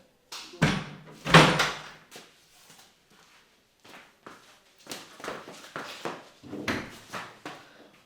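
A door is shut in a home, with two loud bangs early on, followed by quieter knocks, rattles and footstep-like thuds.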